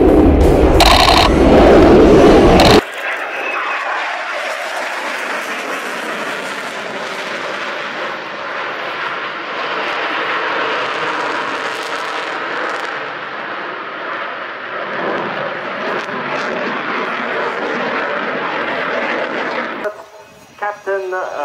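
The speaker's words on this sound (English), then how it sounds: "So coming in from the left, the Swiss F-18 Hornet." A Swiss F-18 Hornet jet at an air show, a loud sustained roar of jet engines passing overhead after a brief burst of noise at the start, with a commentator's voice audible over it.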